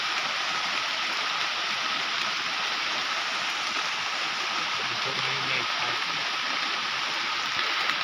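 Steady rain pours down in a forest in a dense, even hiss, with a faint low voice briefly under the downpour.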